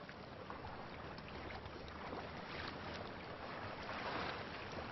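A low, distant rumble of an incoming tidal wall of water, faint and continuous with wind noise over it and no speech.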